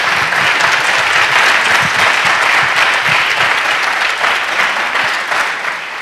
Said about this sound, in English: Let's give Dr. Wachtel a big round of applause.